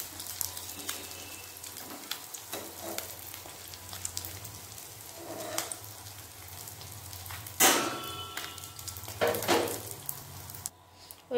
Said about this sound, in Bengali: মাছ ভালোভাবে ভাজা হয়ে গেছে